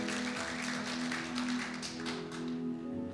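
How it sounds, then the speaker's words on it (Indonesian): A church congregation applauds with a dense, steady wash of many hands clapping, heard at moderate level throughout over a sustained organ or keyboard chord. "Yang setuju berikan tepuk tangan buat Tuhan Yesus."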